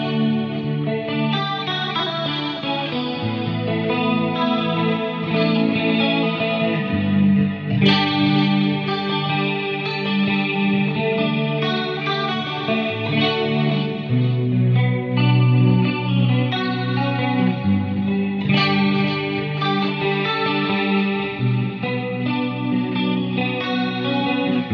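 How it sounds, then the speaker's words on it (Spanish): Clean electric guitar run through an Axe FX 3 with chorus-like modulation and delay, playing sustained chords and arpeggiated notes that shimmer and repeat in echoing trails, continuous and prominent, with no voice. "Escuchá toda la señal ahora con el delay, todo lo que escuchaste de modulación,"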